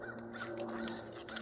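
A crow caws repeatedly on a nature trail, a few harsh calls standing out over quiet outdoor ambience.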